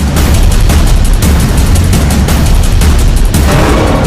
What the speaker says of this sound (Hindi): ओवैसी पर फायरिंग का वीडियो